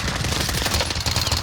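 Dense, continuous rapid gunfire from an assault rifle in a military shooter video game, a steady rattling stream of shots filling the whole moment at fairly loud volume.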